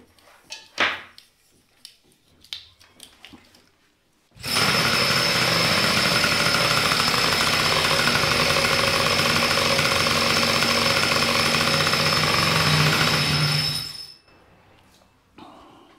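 A cold engine with a new spark plug is cranked after a few clanks, catches abruptly, and runs loud and steady for about ten seconds before cutting off.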